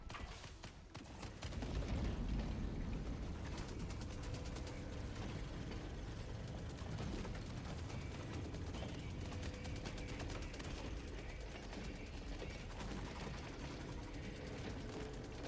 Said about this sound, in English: Now that is a beautiful cannon.